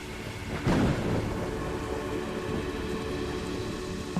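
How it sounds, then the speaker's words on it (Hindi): Steady rain pours down while a single loud thunderclap cracks and rumbles early on, then the dense hiss of rainfall continues alone. "अरे बाप रे, बारिश आ गई।"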